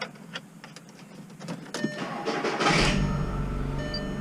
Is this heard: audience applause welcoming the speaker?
no